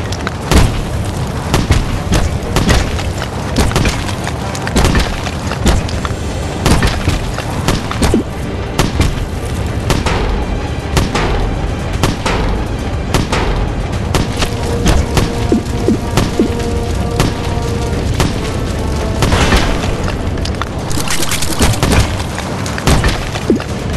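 Tank cannon shots hitting a wall in the WW2 tank racing game Tank Race WW2: loud, repeated booms and thuds in rapid succession over a continuous rumbling battle din.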